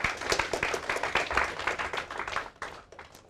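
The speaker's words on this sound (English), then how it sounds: "Please clap for him." A class applauds a student's presentation in a lecture room, with individual claps distinct in a brief, fairly sparse burst that thins out and fades toward the end.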